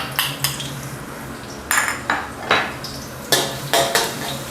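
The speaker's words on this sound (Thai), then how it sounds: "เสร็จแล้วก็ตามด้วยกระเทียมนะครับ วันนี้ใช้เป็นกระเทียมไทยกลีบเล็กนะครับ" Small-clove Thai garlic stir-frying in a wok for soy sauce fried rice: a spatula clanks and scrapes against the metal in repeated paired strokes over a low sizzle, close by.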